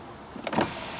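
Short hum of a car door's power window motor running as the glass lowers, rising briefly over a quiet background, close and without speech.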